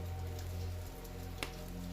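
Rain falls outside with a soft, steady patter over a low hum, faint and continuous, with one brief sharper tap partway through.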